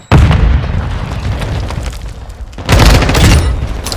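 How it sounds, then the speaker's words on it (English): Grenade blasts in a competitive first-person shooter match: a loud booming explosion hits right at the start, followed by rumbling gunfire, then a second heavy blast erupts near the end. "Wait for my nade."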